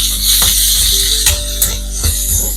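Tomatoes added to cucumber pieces frying in a pan sizzle with a steady hiss, broken by a few clicking and scraping knocks from stirring.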